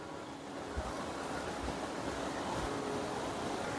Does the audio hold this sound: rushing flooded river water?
yes